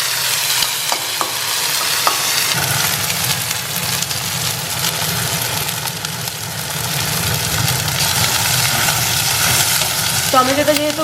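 Chopped onion and slit green chillies sizzle in oil in a pan for a fish curry, a steady broadband frying hiss with occasional stirring clinks and a low background hum.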